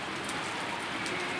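Steady rain falling across the whole moment, a dense, even hiss of drops on surfaces with no voices.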